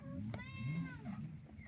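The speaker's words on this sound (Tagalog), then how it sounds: "pasensya na sa maingay na background kasi andito yung pusa" A house cat meows once in a drawn-out, wavering call close to the microphone, over steady indoor background noise.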